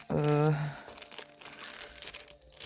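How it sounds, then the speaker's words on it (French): Plastic sachet crinkling as a resin decoration item from a Temu haul is slipped back inside, a short close rustle at the start followed by quieter handling noise. "Je vais remettre dans son sachet, comme ça je ne l'abîme pas."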